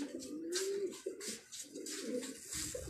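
A large pigeon, about six or seven years old, coos nearby in a run of soft, throaty calls, rising and falling in short phrases.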